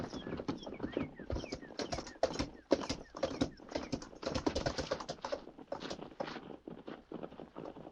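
Several riders approach on horseback in an old radio drama, their hoofbeats a rapid, uneven clatter of close, crisp strikes that runs steadily throughout.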